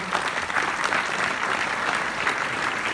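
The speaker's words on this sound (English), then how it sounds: "let's give a round of applause to the Federation of Cypriot American Organizations" Audience round of applause at a speech event honoring the Federation of Cypriot American Organizations, steady dense clapping throughout, loud and continuous without talk.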